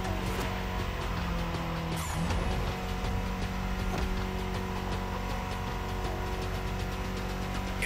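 A BMW M4 Liberty Walk Edition roars steadily in The Crew Motorfest, its engine drone constant and loud with a brief tire squeal or skid partway through.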